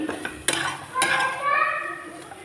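Sliced bitter gourd roasting in a pan, with a few metallic clinks of a utensil against the pan and faint sizzling, close by under soft background noise.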